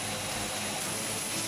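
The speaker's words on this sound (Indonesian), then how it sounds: "pesawat Super Hercules A1339 mendarat di Bandara Internasional Minangkabau" A Super Hercules military transport aircraft lands at Minangkabau International Airport in Padang, a loud, steady broadband engine and propeller roar with no talk.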